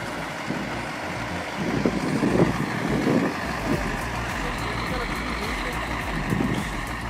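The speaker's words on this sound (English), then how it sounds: "the burnt orange Scania R560 doesn't just enter the site" Burnt orange Scania R560 heavy haulage truck rolling into a concrete yard, a low diesel rumble swelling and easing at moderate distance, with someone speaking over it.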